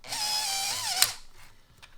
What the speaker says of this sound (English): just run this drill through the drill guide like that